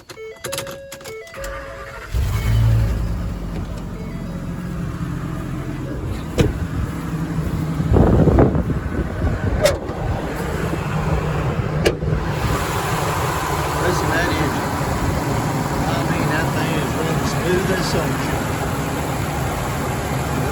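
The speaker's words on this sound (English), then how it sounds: "let me start it up for you. We'll let you listen to the motor." A 2012 Ford F-550 V-10 gas service truck engine cranks and catches, then settles into a steady, rumbling idle that carries on for a long stretch, close by.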